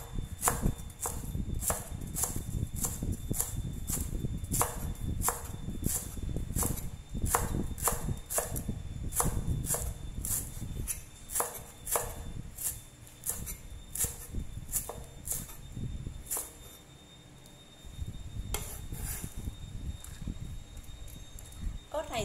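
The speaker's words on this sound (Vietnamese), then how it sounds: "Mình thái dài cái phần sả này ra." Knife chopping lemongrass on a cutting board, rapid and steady rhythmic cuts, loud and close, slowing briefly before picking up again.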